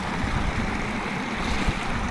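Steady broadband rush of a waterfall and clear flowing water in the mountains of Kalinga, loud and continuous with no voices.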